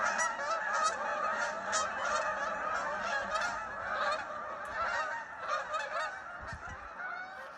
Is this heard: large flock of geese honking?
yes